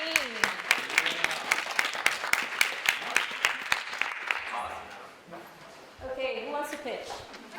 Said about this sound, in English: I want a round of applause for the most prepared team